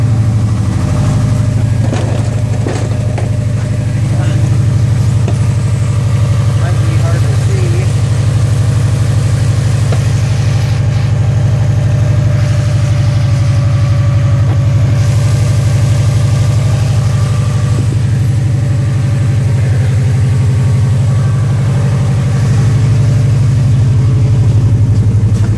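A car engine fitted with new Inferno fab headers idles loudly and steadily up close, its deep rumble sustained throughout with slight fluctuations and a few faint rev changes.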